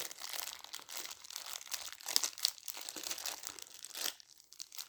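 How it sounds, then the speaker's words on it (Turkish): A thin plastic bag crinkles and rustles steadily as a mini drone's handheld remote control is pulled out of it, with close, dense crackling bursts throughout and a few sharper crunches. "Evet şimdi kumandamızı çıkarıyoruz poşetinden."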